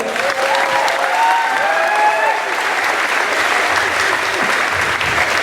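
Loud, steady audience applause in a hall, dense clapping throughout with a few whoops and voices rising over it early on.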